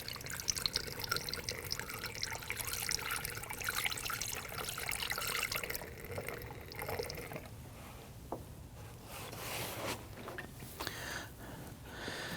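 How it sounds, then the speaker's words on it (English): Coolant poured through a funnel into the reservoir of a 2009-2017 Volvo XC60, a steady liquid trickle and fill running throughout at close range, with no voices. "Grab a clean funnel, and we're going to add coolant."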